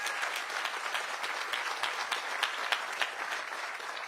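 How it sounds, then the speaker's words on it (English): Audience applause at a South Carolina Teacher of the Year announcement event, a steady round of clapping from a seated crowd heard at a moderate distance without any voices. "Will you join me in giving them a round of applause for their hospitality?"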